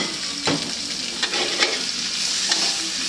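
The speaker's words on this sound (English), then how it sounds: "Now you add all the veggies in here." Mixed vegetables for spring roll filling, including carrots, chives, ear mushroom and bean sprouts, stir-fried in a pan with steady close sizzling and scattered scraping stirs, no voices.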